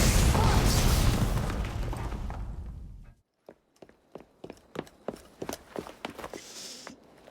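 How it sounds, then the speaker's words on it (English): A loud, sustained explosive roar rumbles through the first three seconds in Assassin's Creed Syndicate, then cuts off abruptly, leaving sparse clacking footsteps and hoof-like clops in the quiet aftermath. "What was that explosion?"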